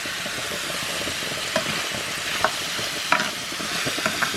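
Mushrooms cook in a pot with a steady close sizzle and hiss, broken by occasional soft clinks and scrapes of stirring, and no voices.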